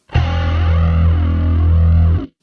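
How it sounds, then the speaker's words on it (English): A single sustained bass note rings out through an analog stereo chorus pedal at full mix, its tone shimmering and swirling as the pitch wobbles gently, loud and close. "I chose a analog stereo chorus, and here's how that sounds."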